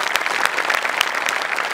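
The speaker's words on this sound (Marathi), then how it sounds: "त्यांच्यासाठी एकदा जोरदार टाळ्या" Enthusiastic audience applause at a live Marathi comedy show after a qawwali performance, a dense steady patter of many hands clapping with a few louder claps standing out, close and sustained throughout.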